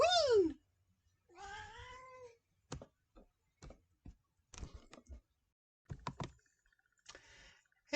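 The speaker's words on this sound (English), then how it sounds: "I'm here with Coaster Kitty Missy here" A cat gives a couple of close, rising-then-falling meows, followed by scattered soft clicks and small knocks in an otherwise quiet room.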